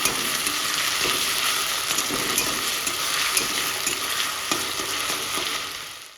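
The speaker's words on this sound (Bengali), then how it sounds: "আলু কুচি আলুটাকে হালকা ভেজে নেব" Chopped potatoes lightly fry in a pan, giving a steady, close sizzle with occasional stirring scrapes and crackles throughout, with no talk.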